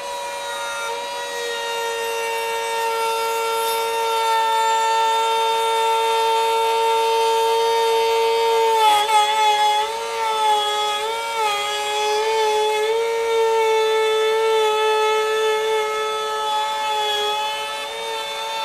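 A Flex FX4221 24V cordless trim router cuts plywood with dust extraction running, giving a loud, steady high-pitched whine that wavers slightly midway through as the bit loads up, with no talking.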